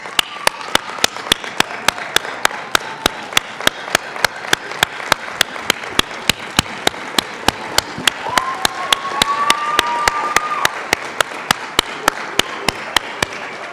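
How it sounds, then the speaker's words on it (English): Families and friends at a nursing college white coat ceremony give steady applause, a continuous crowd of clapping with sharp individual claps standing out throughout. "can all the families, friends, loved ones of the students stand for applause?"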